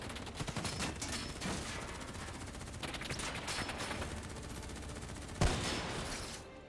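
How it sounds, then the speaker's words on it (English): Sustained gunfire in Call of Duty: Black Ops III, a dense, continuous rattle of automatic weapons with overlapping bursts and one sharp louder crack near the end, loud and unbroken throughout. "Who's shooting?"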